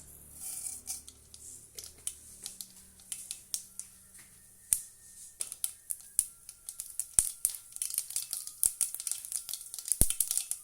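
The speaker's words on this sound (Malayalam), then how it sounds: "കുറച്ച് കടുക് ഇട്ട് കൊടുക്കാം." Mustard seeds sizzling and popping in hot oil: scattered sharp crackles over a faint sizzle, growing busier and denser as the seeds heat up, with no talking.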